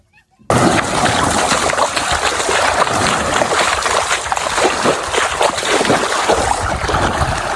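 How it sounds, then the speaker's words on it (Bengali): A boat on the Dhasani river heading out to fish, with continuous loud rushing water and motor noise that starts abruptly after a brief silence and stays close; a voice speaks intermittently. "এই যে আমাদের নৌকায় কিন্তু চলে আসলাম"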